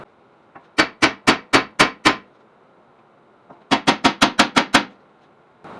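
Two quick runs of hard metallic hammer blows on a rusted rear hub bearing of a Ford Taurus, six then eight, evenly spaced and loud, ringing sharply against metal with a pause between.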